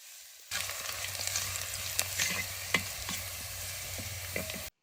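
Ginger, green chilli and garlic sizzle steadily in hot oil with fenugreek and mustard seeds for grape pickle, stirred in a pan with scattered scraping clicks; close and continuous, no voices.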